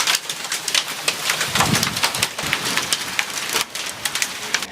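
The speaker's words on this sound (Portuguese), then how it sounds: "essa chuva aconteceu em Brejetuba, no Espírito Santo" Heavy rain pours steadily in Brejetuba, Espírito Santo, a dense, loud hiss of drops striking surfaces with irregular splatters throughout.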